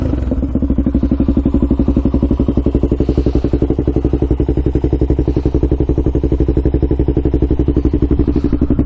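A Honda 400ex quad engine idles steadily while warming up, its rapid, even thumping pulses loud and close throughout with a faint rattling clatter on top.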